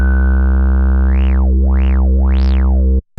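Waldorf Iridium synthesizer through its PPG filter model: a steady, loud sustained tone whose filter sweeps open and closed three times in a smooth wah-like rise and fall, then cuts off abruptly.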